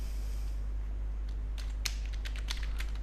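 Someone types on a computer keyboard, a short burst of quick, light clicks close by over a steady low electrical hum, with no talking.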